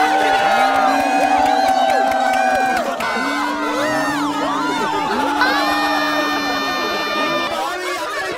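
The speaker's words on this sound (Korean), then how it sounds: "박수" Concert crowd cheers and whoops continuously and loudly, with many overlapping voices shouting over a dense, sustained din.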